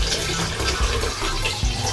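A gallon of water being poured into a homebrew stout mash of chocolate and roasted barley in a bag, a continuous splashing gush with a few low gurgles, close and alone.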